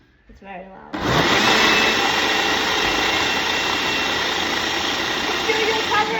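Loud close-up roar of a blender on a high-speed blend cycle mixing a smoothie. A brief voice comes just before the motor kicks in, then a sustained, even, high-pitched whir continues to the end.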